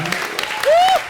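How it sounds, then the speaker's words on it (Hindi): A studio audience on a TV comedy show claps briefly beneath a voice, with a short high whistle-like tone near the end. "अर्चना को ताली बजाओ, ठोको।"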